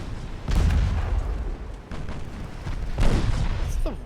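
Heavy naval shells from enemy ships strike and burst around the player's ship in Ultimate Admiral: Dreadnoughts, several deep booming impacts in quick succession, loud and close, with rumbling echoes and no talk over them.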